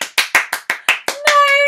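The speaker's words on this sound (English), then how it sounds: "and let's give you a round of applause." Hands clap for a student in a virtual school orchestra class, about eight sharp, close claps in a steady rhythm, then a sustained tonal sound comes in over the final claps.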